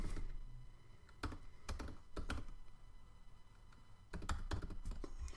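Quick bursts of keystrokes on a computer keyboard as credit card details are typed in, soft and close, clustered taps separated by brief pauses in a quiet room.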